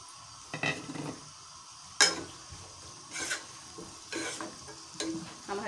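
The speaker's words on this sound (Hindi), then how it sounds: "हम हल्की सी ब्राउन करेंगे प्याज को" About half a kilo of onions fry in a pan toward light browning, a soft steady sizzle broken by several sharper stirring scrapes and clinks of a spoon against the pan.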